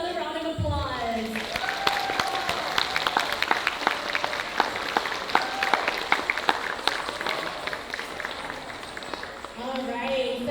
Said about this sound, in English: Please give another round of applause.